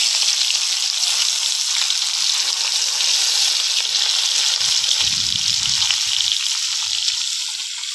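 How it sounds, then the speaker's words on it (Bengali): Fish pieces coated in salt and turmeric fry in hot oil, giving a loud, dense, continuous sizzle with a few low knocks near the end as it settles slightly. "দেখুন, মাছগুলো ভালো করে ভেজে নিয়েছি।"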